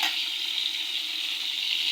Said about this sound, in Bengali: এই যে এখন মাছ ভাজি করতেছি